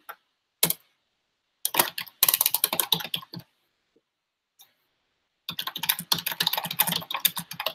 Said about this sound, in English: Love that clacky keyboard.